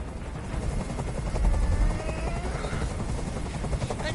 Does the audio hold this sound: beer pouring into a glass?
no